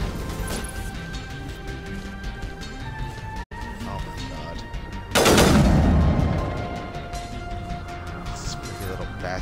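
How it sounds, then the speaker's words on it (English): Steady rapid gunfire in Mass Effect, aimed at the player, with dense overlapping shots and a loud crash-like impact burst midway that fades out under continuing fire. "They're gonna keep shooting you from that angle"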